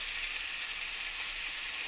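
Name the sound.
potatoes frying in a wok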